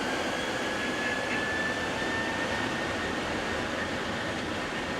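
A GOL Boeing 737-700 at takeoff power on the runway at São Paulo Congonhas Airport, a dense, constant engine roar with a faint high whine, heard close and loud with no talk.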